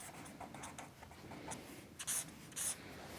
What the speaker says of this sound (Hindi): यहाँ हम लिखते हैं